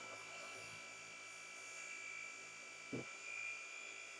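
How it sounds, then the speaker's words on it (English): A rotary car polisher runs with a steady, thin, high whine at low level, broken by one brief thump near the end. "This polisher is so loud."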